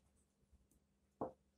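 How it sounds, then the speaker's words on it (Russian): A single short, soft scratch and tap of a yellow colored pencil marking a dot on paper, close and otherwise quiet. "Теперь этим же желтым карандашом я рисую звездочки, которые будут на теле у котика."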